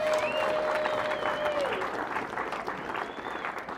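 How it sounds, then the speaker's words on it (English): A seated audience applauds a ski patroller named Zaradka as he stands during a slide presentation, dense steady clapping filling the room for several seconds at moderate volume, with a faint whistle-like tone near the start. "Give Zaradka a round of applause"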